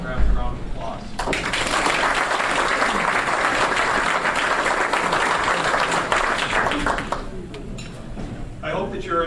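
A crowd at an evening business networking event in a restaurant breaks into applause for a round of several seconds, starting as a voice finishes and fading into a few scattered claps and nearby talk with faint clinks of dishes.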